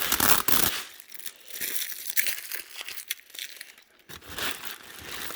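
Someone opens a taped package one-handed, producing loud, continuous crinkling and tearing of plastic and tape, close up, with brief pauses between bursts of rustling.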